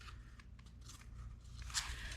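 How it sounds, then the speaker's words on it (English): Scissors snip through gummy sound-deadening material used in a 2018+ Honda Accord speaker upgrade, giving quiet, close crunchy cuts over a low hum, with one sharper snip near the end. "I'm just using scissors."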